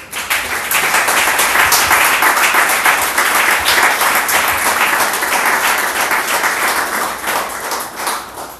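A church congregation applauds steadily and loudly throughout, a dense continuous wash of clapping with no voices rising above it.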